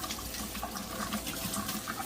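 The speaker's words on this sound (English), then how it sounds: "I like to pour a little bit of boiling water over my ackee just to give it a nice wash" Boiling water is poured over canned ackee to rinse it, a steady splashing, trickling pour heard close and alone.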